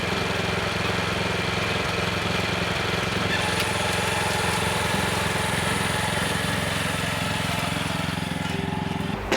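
A walk-behind cultivator (tiller) engine running steadily close by, a loud even putter with a constant mechanical rattle and no change in speed throughout.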